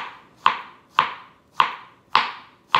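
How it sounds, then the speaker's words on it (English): A knife slices through plantain into thin round slices, giving five sharp, evenly spaced chops against a board. Each cut lands close and crisp, with quiet gaps between them. "I'm just gonna do little round slices"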